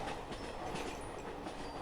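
A train riding along the tracks in a horror video game, a steady, close rumbling with faint rhythmic clickety-clack of the wheels, heard alone.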